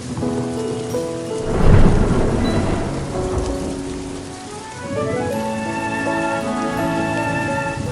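Steady rain with rolling thunder in the hills near Darjeeling, a loud rumbling peak early on and then a second distant roll, the rain hissing continuously throughout with no voices.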